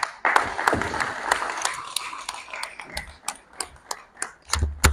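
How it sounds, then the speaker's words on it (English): Audience applause after a speech at a health launch event, starting as dense clapping and thinning into scattered individual claps that fade toward the end, with no talking over it. "Please let's give her a round of applause as she takes her seat."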